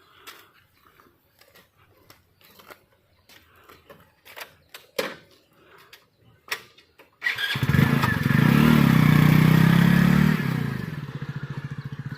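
A motorcycle starts and pulls away, loud and close, after a stretch of faint clatter and footsteps; the engine revs steadily for a few seconds and then settles.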